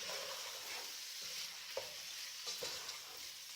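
Vegetables, chili and spices are stirred in a hot pan, giving a soft, steady sizzle close by with a few faint scrapes and taps of the spoon, and no talk.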